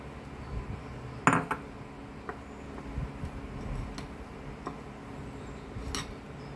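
A utensil stirs hot cake mix batter for waffle pancakes in a bowl, giving scattered light clinks and taps at irregular intervals over a quiet background.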